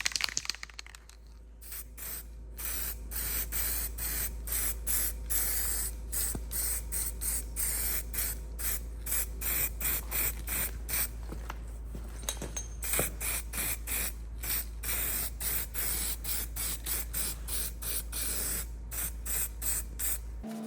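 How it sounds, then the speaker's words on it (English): An aerosol can of grey primer paint hisses in repeated short bursts over a Lemken plough frame, steady on-off spraying close up for about twenty seconds over a low constant hum in a workshop. "Actually, I'll use grey primer this time because I've got more grey primer than I have red oxide."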